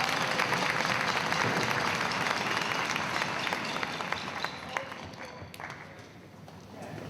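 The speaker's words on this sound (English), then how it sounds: "Can we give him a round of applause?" Audience applause fills a school band concert at an intermediate school, a dense sustained wash of clapping from a large crowd that gradually thins toward the end.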